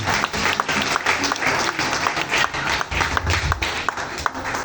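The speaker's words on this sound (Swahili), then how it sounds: "tuchapie makofi ya juu sana" A church congregation claps loudly together in dense, sustained applause that carries steadily through the whole stretch, close and reverberant.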